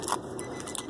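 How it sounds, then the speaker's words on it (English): Keys for a 2017 Nissan Titan pickup jangle in a quick close metallic shake, bright chiming rattles lasting about a second. "so easy to just grab your keys."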